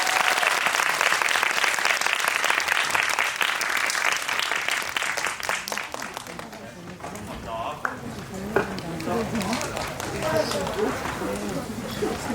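Audience applause fills a Korean pre-release GV screening of the film 'Remember' with the lead actor and the director present; dense clapping runs steadily for several seconds, then thins and fades as a voice begins talking over it.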